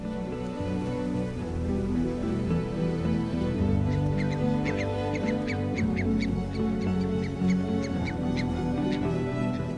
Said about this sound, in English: I get to see the curlews serenading us